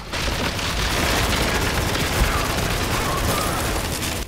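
Machine gun fire in the shooter Spec Ops: The Line, a dense, unbroken roar of rapid loud shots that runs steadily throughout with little else audible.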